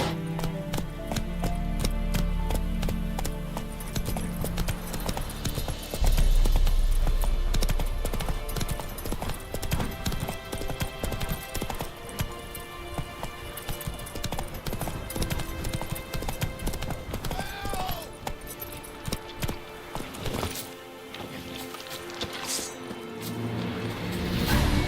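Horse hooves gallop in The Witcher 3, a fast, continuous clip-clop rhythm rolling along for the whole stretch, with occasional thuds and faint game ambience underneath.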